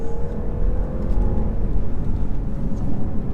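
A 2019 BMW 530e plug-in hybrid accelerating hard in third gear, a loud continuous engine drone with a rising whine and heavy road rumble heard from inside the cabin.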